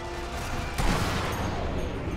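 A sniper rifle shot in the video game Sniper Elite V2 cracks once loudly near the start, followed by a short fading echo over a steady game background, with no talking.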